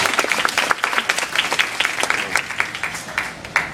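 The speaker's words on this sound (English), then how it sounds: "How about a round of applause for that?" Audience applause at a glassblowing demonstration of vase making, a dense crowd clapping steadily for nearly four seconds, fairly close and loud with sharp individual claps standing out.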